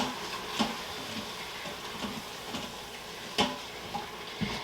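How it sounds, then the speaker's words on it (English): Browned meat with garlic and seasonings stirred in a pan, a soft continuous sizzle broken by a few scraping clinks of the utensil against the pan, close and fairly quiet. "now I'm just going to mix it all together with the meat"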